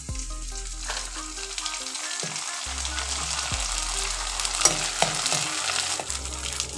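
Green papad made from leftover rice fries in hot oil, giving a steady, fairly loud sizzle that crackles and bubbles throughout, with brief stirring and scraping sounds along the way and no voices.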